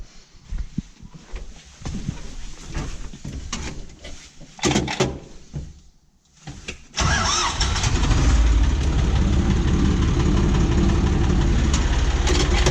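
A tractor engine cranks with uneven sputters, catches, and settles into a loud, steady low rumble that continues to the end.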